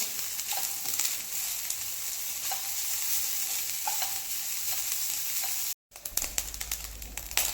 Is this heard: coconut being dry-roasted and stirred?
yes